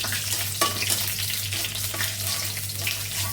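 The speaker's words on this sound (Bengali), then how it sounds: "তেল দিয়ে দিছি আর শুকনো মরিচ আর তেজপাতা ফরমে যাবে হয়ে গেছে আমি দিয়ে দিলাম পাঁচফোড়ন তেজপাতা আর শুকনো মরিচ" Panch phoron, bay leaves and dried red chillies frying in hot oil, giving a loud, steady, close sizzle with crackling spits throughout and no voices.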